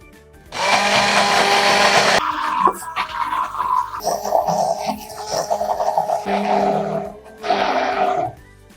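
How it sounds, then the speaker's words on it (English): A blender whirs loudly in several bursts, motor pitch shifting as it churns thick homemade mayonnaise with lemon, with brief pauses between pulses. "now I'm gonna blend it with a blender"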